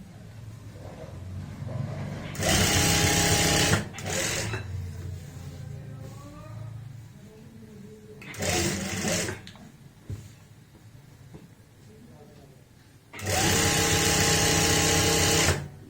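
An electric sewing machine stitches the back seams of loose palazzo pants in three loud, steady whirring bursts, with someone talking quietly between them.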